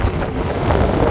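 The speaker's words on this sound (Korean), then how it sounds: "바람소리 잘 살라보네." Strong sea wind buffets a microphone on a fishing boat at sea, a steady, loud, roaring rumble with no voices.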